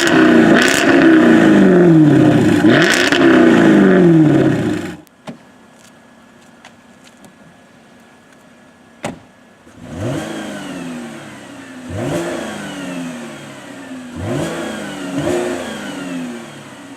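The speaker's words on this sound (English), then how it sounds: "And then there's the exhaust comparison." A Jaguar F-Type V8 S revs hard twice, its exhaust roaring loud and close. A few seconds of near silence and a sharp click follow, then a series of shorter, quieter throttle blips rising and falling.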